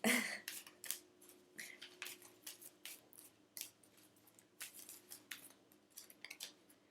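Playing cards being shuffled by hand in a quiet room, a long run of crisp riffling and snapping bursts repeating at an uneven rhythm, close and fairly soft, with no talk over it.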